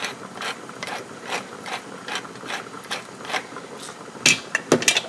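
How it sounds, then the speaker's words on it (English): A pepper grinder cranked over a pot of home-canned vegetable beef soup, giving a series of close, rhythmic ratcheting grinds with a few sharper clicks at the end. "a good few grinds of pepper"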